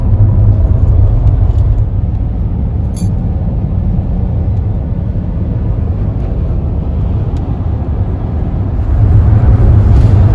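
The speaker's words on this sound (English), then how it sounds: "we're driving from Napier to Taupo and home now" A car cruises on a New Zealand road trip between Napier and Taupo, heard from inside as a loud, constant low rumble of engine and tire noise without any talking.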